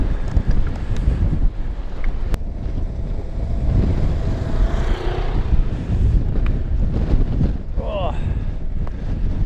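Strong wind buffets across open moorland on the Princetown to Burrator loop, a loud, gusting roar of rushing air battering the microphone, with people briefly talking underneath.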